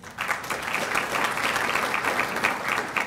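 A conference audience applauds at the 2016 Aspire Appalachia Conference opening plenary session, producing steady, dense clapping that holds for several seconds at moderate loudness without talk.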